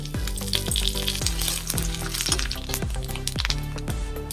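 Spices frying in mustard oil in a hot kadai for mixed fruit chutney, a close steady sizzle with a repeated rhythmic stirring or scraping pattern.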